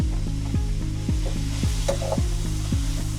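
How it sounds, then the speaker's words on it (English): Ground beef sizzles while it browns over medium-high heat in a Dutch oven for stuffed peppers. A spoon scrapes and stirs through it in a steady, regular rhythm, close and loud, with no talking. "You just want to brown it a bit."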